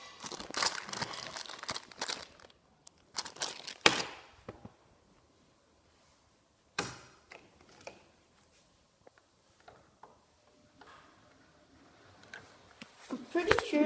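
A plastic bag holding game token holders crinkles in short, close bursts between pauses, quiet and handled by hand, with a person speaking at times.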